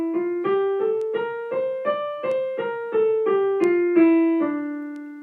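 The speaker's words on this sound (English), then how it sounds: "This is D natural minor." A D natural minor scale is played note by note as an ascending run of about a dozen evenly spaced tones, clear and alone, the last note left ringing.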